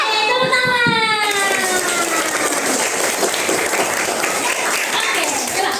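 A group of children clap their hands together at an Indonesian free tutoring session, producing a sustained, loud, dense burst of applause lasting several seconds, with voices mixed in at the start.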